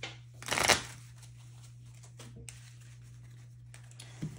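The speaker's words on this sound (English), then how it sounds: "So I'll give the deck a nice little shuffle here." A deck of Pokemon trading cards gets a quick riffle shuffle, one loud close burst of flapping card noise, then quieter light taps and card handling against a steady background hum, no talk.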